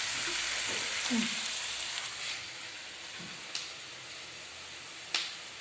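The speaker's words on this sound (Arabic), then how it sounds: "هذه هاد البصل ساعه ساعه نحركوه." Onions frying in a pan, with peppers, hiss in a steady close sizzle, broken by a few sharp clicks and scrapes from a utensil during occasional stirring, with no voices.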